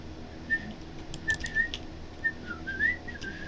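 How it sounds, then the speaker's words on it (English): Someone whistles a halting, wavering tune in short separate notes with gaps between them, alone over a low steady background hum. "I can't whistle well"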